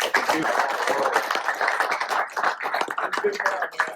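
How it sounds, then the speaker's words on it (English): A smaller group applauding coaches at a high school athletics talk, uneven clapping from a modest crowd with cheers and voices mixed in, fairly near and tapering in patches. "give y'all coaches a round of applause"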